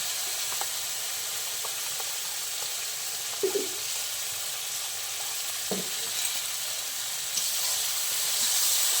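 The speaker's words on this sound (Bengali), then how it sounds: "এবার আমি পেস্ট করে রাখা সর্ষে, পোস্ত আর কাঁচা লঙ্কাটা দিয়ে দেবো।" A paste of mustard, poppy seed and green chilli sizzles in a tomato masala with a steady hiss, punctuated by a couple of stirring knocks.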